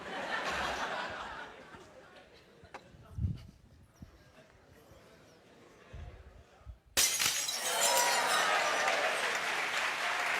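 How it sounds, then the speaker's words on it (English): Glass shatters during a physics lecture demonstration before a university class, a crisp crash followed by a burst of loud applause and laughter from the audience that carries to the end. "Students love it when the glass breaks."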